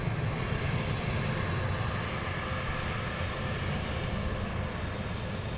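An aircraft arriving at London Luton Airport after landing gives a steady, loud, broadband engine roar that holds constant throughout with no talk.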